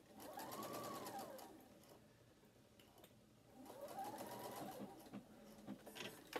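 A sewing machine stitches lightweight print fabric in two close, steady runs with a rising and falling whirr, separated by a quieter pause.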